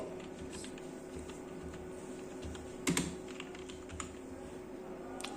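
Fingers tap out a company name on a computer keyboard, a quiet, close run of individual keystrokes with a slightly louder cluster midway, no talking.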